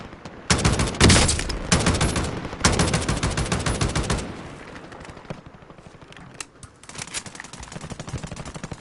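Rapid bursts of gunfire from a shooter video game, loud and dense in two long volleys near the start, then thinner scattered shots and sparser pops trailing off toward the end.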